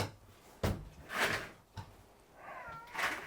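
A cat meows a few times at close range, short plaintive cries separated by brief pauses, with a couple of soft knocks in between.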